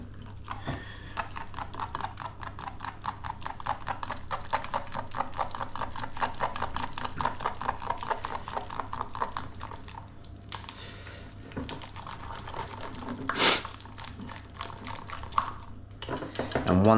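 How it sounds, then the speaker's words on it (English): A whisk beats pumpkin loaf batter in a bowl with rapid, steady wet clicking strokes close by, slowing and fading toward the end, where a couple of louder knocks against the bowl come through. "And then just slowly give a little whisk."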